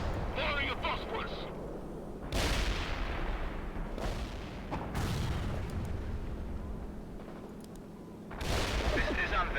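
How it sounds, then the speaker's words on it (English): Phosphorus artillery fire in the World in Conflict strategy video game, several heavy booming volleys with rumbling tails, mixed under radio chatter and battle noise. "Fire your phosphorus."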